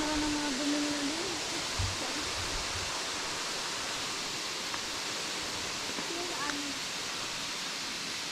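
Bigaho waterfall near Port Barton, San Vicente, Palawan, flowing strongly after rain, a steady broad rushing roar that fills the whole stretch, with faint tonal sounds and brief bumps over it.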